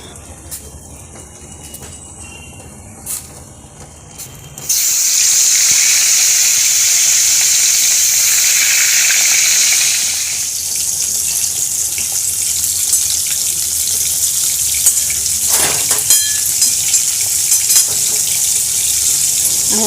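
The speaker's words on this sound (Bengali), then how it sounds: "আমি মাছটা ভেজে নিচ্ছি" Fish frying in a pan in a home kitchen gives a loud, continuous sizzling hiss that starts abruptly and holds steady, easing slightly midway, with quieter kitchen noise before it.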